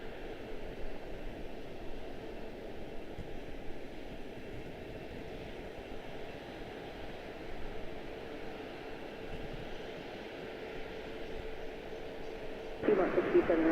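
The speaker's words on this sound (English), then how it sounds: "Real treat to see the Etihad in the A350 1000 frame." An Etihad Airbus A350-1000 jet airliner at Charlotte-Douglas airport produces a steady, moderately distant engine roar with broadband rush that swells slightly at the end, while a voice talks over it.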